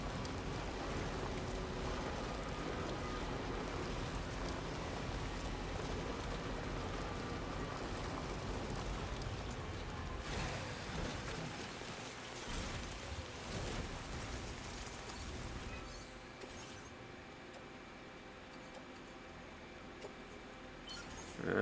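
Timefall rain in the video game Death Stranding 2 pours as a dense steady hiss with scattered splashes and a low rumble, easing and thinning in the latter part.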